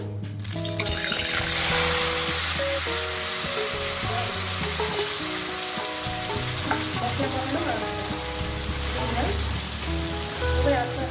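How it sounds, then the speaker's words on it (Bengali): Belle fish frying in hot oil in a pan over medium gas, with potato and onion in the dish; a steady, loud sizzle runs throughout with occasional stirring clinks and no talk. "ভাজা হবে গ্যাস কিন্তু মিডিয়ামে রাখবেন এটা আস্তে আস্তে এইভাবে রান্নাটা হবে"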